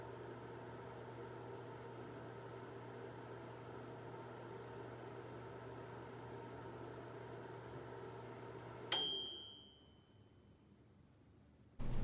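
Microwave oven in a dorm lounge hums steadily for several seconds, then stops with an abrupt click or beep, leaving near silence before a faint sound returns at the end.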